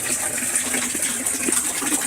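Water runs steadily from a pipe feeding a small home water system used for toilet flushing, a continuous close gush and splash alone throughout.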